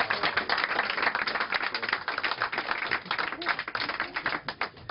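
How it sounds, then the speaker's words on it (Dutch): Audience applause for two performers at a Dutch magic or card-trick show, a dense, steady wash of many hands clapping that stays loud and fairly close throughout, with no pause. "geef Robert en Tom van de Gebroeders Grimm een daartoe applaus"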